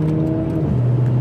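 A car engine revving close and loud, holding a steady droning pitch before the tone dips and settles lower.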